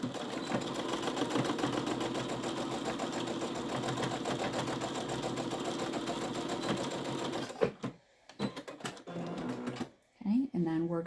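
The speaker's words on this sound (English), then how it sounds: "We're going to sew that." A sewing machine hums and chatters steadily and rapidly while sewing a fabric hanging storage pod, running continuously up close, then stopping for a few seconds of handling noise and talking.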